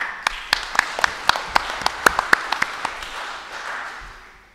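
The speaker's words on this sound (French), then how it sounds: "Donc vous pouvez surtout les applaudir pour leur présence." Sparse clapping from a small audience at a horse-breeding federation's general assembly, a couple of dozen distinct, fairly close hand claps that thin out and fade over a few seconds.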